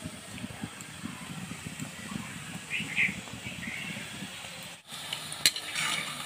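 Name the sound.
frying sitabhog sweets in oil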